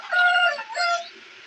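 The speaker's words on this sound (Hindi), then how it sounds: "मियाँ वाली की नस्ल की ये असील मुर्गी है" Aseel chickens with a rooster make two short, close crowing or squawking calls in quick succession, fairly loud and alone.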